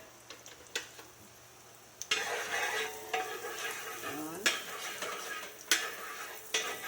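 Butter sizzling in a hot pan for pancakes, a steady frying hiss that swells once the butter goes in, with clinks and scrapes of a utensil stirring against the pan, close up.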